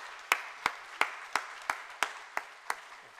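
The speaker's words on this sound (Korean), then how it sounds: "우리 따뜻한 박수로 환영하겠습니다." A church congregation applauds during a Sunday morning service to welcome a new member. A nearby pair of hands claps in a sharp, evenly spaced rhythm of about three claps per second, while softer clapping continues behind it.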